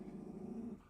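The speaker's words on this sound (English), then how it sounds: "Dogs are fighting over a toy right now" Dogs fight over a toy and let out a low, steady rumbling growl, faint and a little distant, lasting about a second with no voices.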